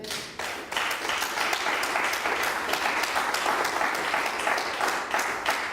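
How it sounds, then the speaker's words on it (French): A church congregation breaks into sustained applause, many hands clapping in a dense, even roar that swells quickly and holds at a moderate level throughout. "Est-ce qu'on peut acclamer la parole du Seigneur?"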